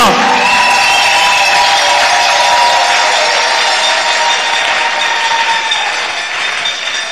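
A church congregation cheers and acclaims in a loud, sustained wash of voices with scattered clapping, fading slightly toward the end.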